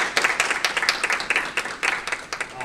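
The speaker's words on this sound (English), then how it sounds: "give them all both another round of applause" A modest group applauds a pair of guest presenters at a student union tech talk, scattered individual claps forming a moderately close, uneven ripple with no voices over it.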